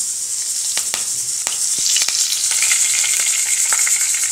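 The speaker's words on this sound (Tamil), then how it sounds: "வெந்தயம் போட்டு வெந்தயம் பொரியுது கருவேப்பிலை போடுவோம்" Fenugreek seeds crackle and sputter in hot oil, a bright continuous sizzle with sharp scattered pops, loud and close.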